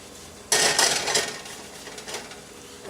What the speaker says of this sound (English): I'm just wipe out that excess oil. I use that to do the rest of the pan.